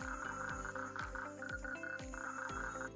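Frogs croak during mating season in a steady rhythmic chorus: low, throaty pulses repeat about every half second over a continuous buzzing, trilling backdrop, with no voices.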